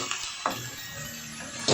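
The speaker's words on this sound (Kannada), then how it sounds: "ಮಿಕ್ಸ್ ಮಾಡಿಕೊಂಡು ಎಣ್ಣೆಯಲ್ಲಿ ಒಂದು 2 ನಿಮಿಷ ಫ್ರೈ ಮಾಡ್ಕೊಳ್ಳೋಣ" Mushrooms being fried and tossed in oil for a pepper dry, a short burst of close sizzling with scraping stir noises and a louder toss at the end.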